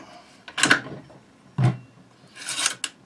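Metal rail cover of a Chinese SKS rifle sliding back during disassembly, heard as three short rasping scrapes of metal on metal, close and fairly quiet, with pauses between them and no talking.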